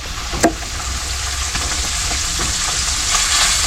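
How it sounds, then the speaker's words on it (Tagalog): Galunggong fish fry in a hot pan with a loud, dense, steady sizzle and crackle throughout, with one brief louder pop near the start. "Nagtitrito lang akong galunggong."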